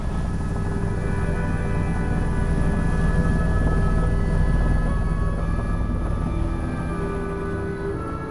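Loud, steady drone and rotor throb of a helicopter in flight, heard from inside the cabin, continuous for the whole stretch.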